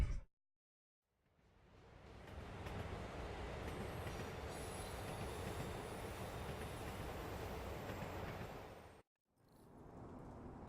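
A subway train rumbles along steadily in a Spider-Man video game, broadband rolling rail noise with faint wheel squeal, starting after a brief silence, cutting off near the end, then resuming.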